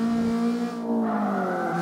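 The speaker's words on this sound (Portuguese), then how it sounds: "Fazer um drift aqui, ó." A car drifting in the CarX Street racing game, with a loud sustained tire squeal and steady engine drone that bends in pitch as the slide goes on, close and continuous.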